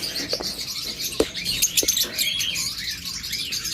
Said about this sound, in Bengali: অর্থাৎ কালো চোখের লুটিনো অপালাইন জোড়া